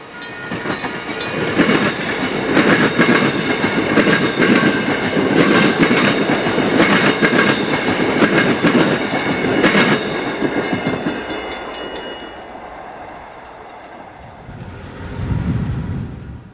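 A westbound South Shore commuter train passes close by in Michigan City, Indiana, with loud, steady rail roar and clickety-clack of wheels on track for about ten seconds before fading, then a brief rumble returns.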